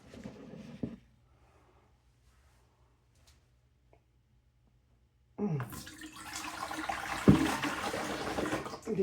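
Water drains and pours from a Zero Water filter pitcher, with a brief splash, then several seconds of near silence before a louder, continuous rush of pouring water sets in nearby.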